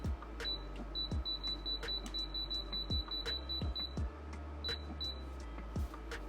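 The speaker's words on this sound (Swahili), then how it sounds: "After the 12 minutes are up, the unit goes off by itself." An Ecoa induction cooker set to 200 watts for pilau rice switches off after its timer with a string of short, high electronic beeps, repeated several times alongside soft low clunks, close and clear with no talk.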